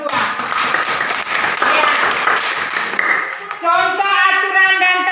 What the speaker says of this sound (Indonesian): tepuk tangan untuk anak kelas 2